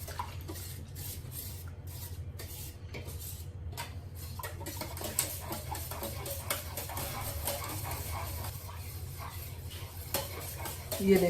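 Milk being stirred into flour in a bowl for pizza dough gives a continuous scraping and swishing with light clinks of a utensil against the dish, steady throughout with no voices.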